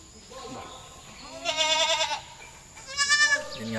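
A goat being given vitamins bleats twice, nearby and fairly loud, with quieter animal sounds and faint background noise between the calls.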